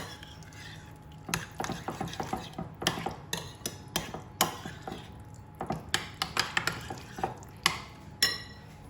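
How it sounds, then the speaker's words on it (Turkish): A whisk or spoon rapidly beating liquid dressing ingredients for a mustard potato salad with purple onion in a bowl, producing a steady series of sharp clicking, scraping strokes, close and repeated without pause. "Sıvı malzemelerim hazır. Şöyle hepsini bir güzel harmanlıyorum."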